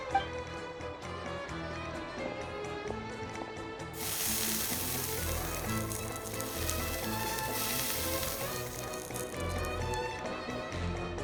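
Mushrooms sizzling in a pan in the video game Genshin Impact, a bright hissing fry that bursts in partway through over light clicking and a soft musical backdrop, with no talk.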